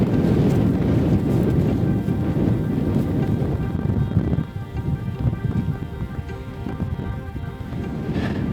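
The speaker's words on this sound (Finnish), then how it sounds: "Tuulee aika kovaa." Strong gusts buffet the microphone high on a mountain near Kebnekaise in Sweden, a loud roaring rumble that eases slightly midway and then keeps blowing, with no talk.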